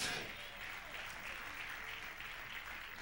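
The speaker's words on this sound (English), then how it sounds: "Clap your hands." A church congregation claps during a Sunday evening service, a soft, distant wash of many hands that stays steady and faint from start to finish.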